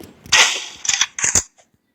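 Four sharp, bright gunshot bursts in a Roblox game in quick succession, close and loud, with crisp game-like cracks and a brief silence after.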